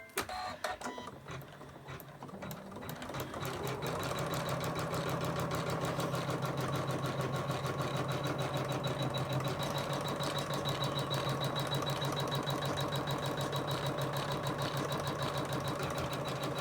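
A Janome embroidery machine stitches the back of a lace coaster in a fast, even, buzzing rhythm, starting after a few quiet seconds and running steadily, close and alone with no talk.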